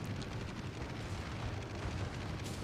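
Torpedo impacts and explosions from a Kaiser battleship fight in World of Warships give a sustained low, rumbling boom that rolls on steadily, heavy in the bass, with a sharper burst near the end and no voices.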